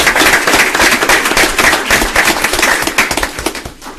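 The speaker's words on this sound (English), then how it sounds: "So I'd like to give them a round of applause and some recognition they truly deserve." A commissioners court audience claps for honored employees, a brisk, fairly loud round of applause of many hands that tapers slightly toward the end.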